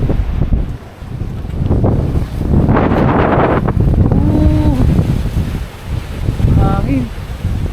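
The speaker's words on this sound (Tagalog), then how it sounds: "Hangin." Strong wind buffets the microphone continuously on a beach in Batangas, a low roaring rumble throughout, with brief voices and a few tonal calls breaking through near the end.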